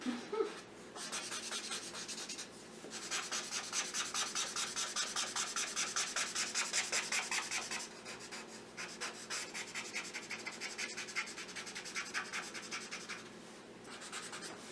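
Alcohol ink markers, a Master's Touch brand set, rub across paper in long steady strokes, a close raspy scratching that pauses briefly between passes.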